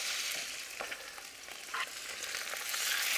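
A stuffed dish sautés in a pan, giving a loud, dense continuous sizzle with scattered sharper pops and soft scrapes, close and unbroken by voices.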